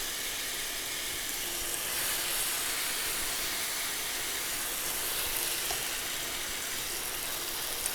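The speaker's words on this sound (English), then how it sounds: "as soon as it starts to sizzle, I'm gonna put the tomatoes in." Tomatoes and garlic sizzle steadily in a hot pan, a loud, continuous bright hiss of frying with small crackles scattered through it and no voices.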